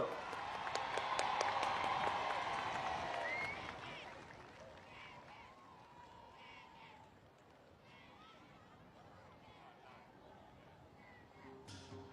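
Audience applause at a Burmese fire-balloon festival night, a dense burst of clapping and crowd noise in the first few seconds that fades to a lower murmur.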